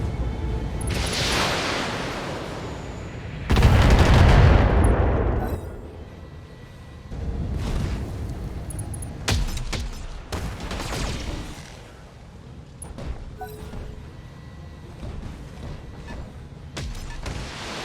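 Mech weapons fire in the video game BattleTech as heavy booming blasts and crackling volleys, with a loud surge near the start and several separate bursts spaced unevenly after it.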